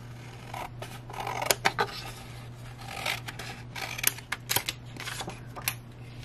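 Repeated crisp snips of scissors cutting through paper and cardstock, irregular and close, with rustling between cuts over a low steady hum.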